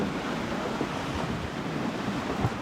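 Ocean waves wash steadily around a Beneteau 423 sailboat moving at speed under head sail in built-up seas, with continuous broadband surf and wind noise on the microphone and no talking.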